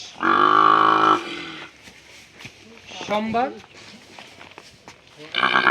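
Shahiwal bull calves moo loudly nearby, one long call at the start and another at the end, while a person talks in between amid outdoor farm noise in Matkhur village, Panchbibi, Joypurhat, Bangladesh.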